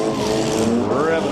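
Several demolition derby car engines at a county derby scream at full throttle together, a loud, continuous mix of rising and bouncing engine notes as rev limiters cut in, with a voice talking over them.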